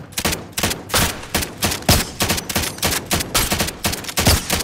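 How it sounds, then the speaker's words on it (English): Rapid video game gunfire, loud and close, with repeated bursts of shots in an uneven rhythm and no voices over it. "Taking fire here."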